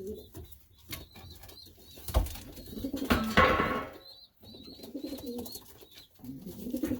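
Several pigeons coo repeatedly in a loft, soft throaty calls in short phrases, with a brief burst of flapping wings midway and a little background shuffling.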